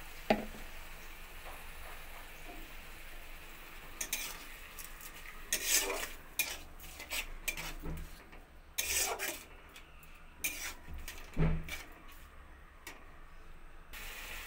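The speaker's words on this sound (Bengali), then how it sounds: "দিয়ে সমস্ত মশলাগুলো একসঙ্গে কষিয়ে নেব" Ground spices and water are stirred and fried in a pan, giving soft scraping and rasping strokes over a low sizzle, with several sharper scrapes of the spoon in the second half.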